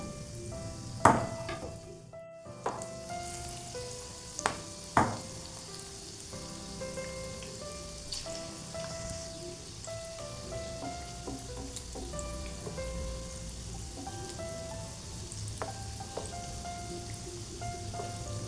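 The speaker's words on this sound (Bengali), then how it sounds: "ডাইরেক্ট তেলে দিয়ে দিচ্ছি লঙ্কাগুলো" Large stuffed peppers (simla mirch) coated in gram-flour batter frying in hot oil in a cooking pan, a steady crackling sizzle with a few louder pops and clinks near the start, then continuing evenly on its own.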